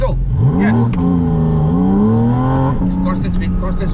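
A Porsche 911 Turbo S pulls hard toward 100 km/h, its engine note climbing steadily through the gears in a loud, continuous surge, with a brief shift dip near the start and voices speaking over it.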